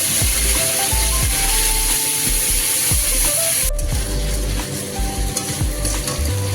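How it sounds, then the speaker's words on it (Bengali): Ginger, green chilli and cumin paste sizzle loudly with chopped onions in hot oil, a continuous frying hiss broken by a run of stirring scrapes, with no talk. "এবার আমি দিয়ে দেবো আদা, কাঁচা লঙ্কা আর সামান্য জিরে বাটা"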